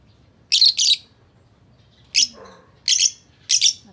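Pet lovebird giving short, sharp high chirps in quick pairs, close and loud, with a brief lower squawky call in between, over a quiet room.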